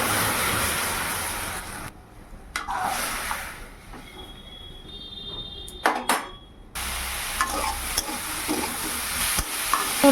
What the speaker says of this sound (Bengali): ফোড়ন দিয়েছি আদা আর জিরে, তারপরে উচ্ছে আলু দিয়ে লবণ, হলুদ, একটু জিরে গুঁড়ো, ধনে গুঁড়ো, লঙ্কা সব দিয়ে ভালো করে কষিয়ে নিয়ে জল দেবো